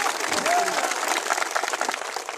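Crowd clapping at an outdoor political rally in Damoh, a dense steady patter of many hands held at fairly even loudness throughout, with a voice briefly heard under it.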